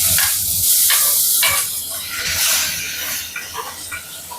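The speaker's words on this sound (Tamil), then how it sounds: "கடுகு வெடிச்சிருச்சு வெங்காயம் போட்டுக்கலாம்" Onions sizzle and crackle in hot oil after mustard seeds have popped, a loud steady hiss with occasional stirring scrapes close by.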